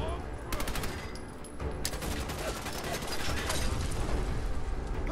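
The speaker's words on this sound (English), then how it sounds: "let's switch to our newly found submachine gun" A submachine gun in the video game Fallout 4 fires rapid, continuous bursts of close, loud automatic gunfire with mechanical rattling, running almost without pause through the whole stretch.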